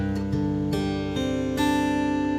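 Acoustic guitar in Hawaiian slack key tuning, CGDGCD, strummed in a few full, ringing chords with sustained open strings, played alone and close by.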